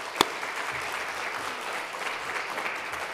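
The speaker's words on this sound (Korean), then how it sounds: "박수 부탁드리겠습니다." Steady applause from a church congregation during a Sunday afternoon service, a dense even wash of clapping at moderate level with one sharper clap near the start.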